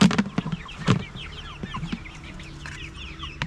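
Chickens cluck and chatter close by, with several birds making short overlapping calls and soft pecking sounds throughout.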